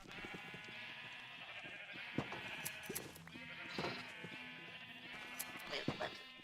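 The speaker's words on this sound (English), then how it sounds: "Come here, red sheep." Blocky Minecraft sheep, some of them red and grey, bleat repeatedly in the video game, a run of overlapping calls mixed with clicks and other game sounds.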